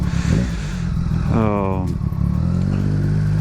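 A motorcycle engine runs and revs through city traffic, rising in pitch in a brief acceleration midway, loud and close under steady talk.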